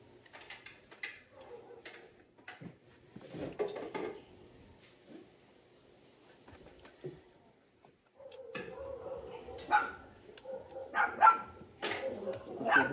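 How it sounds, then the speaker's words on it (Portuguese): A farm dog barks sharply in short bursts at a Sunday family barbecue, loud and close, with people chatting and dishes clinking in between. "Cachorro ficou brabo, rapaz."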